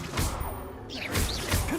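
A Levioso levitation spell cast in Hogwarts Legacy, heard as a brief magical whoosh with soft thuds and clattering impacts that rise and fall over under two seconds.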